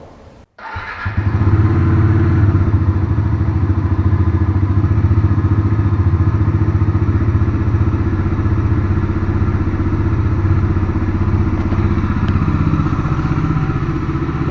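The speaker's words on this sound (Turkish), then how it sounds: "Bir yandan da motorumuzun sesini duyalım" A Bajaj Dominar 400 motorcycle engine starts with a thump and settles into a loud, steady, throbbing idle close by, running continuously with no voices.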